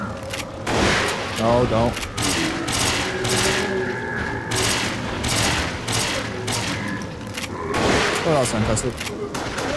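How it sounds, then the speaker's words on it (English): Repeated shotgun blasts and mechanical reloading clatter from the video game Resident Evil: The Darkside Chronicles, several loud bursts spaced across the stretch, mixed with game dialogue and a player talking over the action. "I think I'll just take my shotgun out now"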